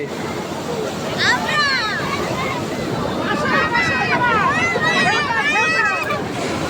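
Sea waves roll and wash along Digha beach, a continuous surf roar with wind buffeting the microphone, while someone talks and a crowd of bathers chatters in the background.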